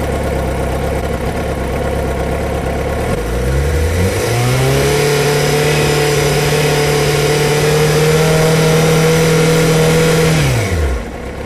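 A Yamaha FZ6 motorcycle engine rises from idle into a steady, loud rev held around 5,000 RPM, its pitch climbing smoothly, sustaining, then dropping sharply as the throttle is released.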